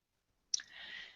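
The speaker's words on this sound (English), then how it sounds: "I'm going to select that, and I'm going to click continue." One sharp computer mouse click out of near silence, followed by a faint lingering hiss.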